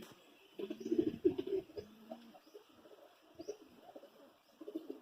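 Madrasi pigeon giving soft, low, close coos in a short burst, followed by quieter murmuring and faint rustles.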